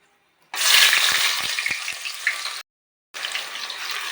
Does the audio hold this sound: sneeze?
no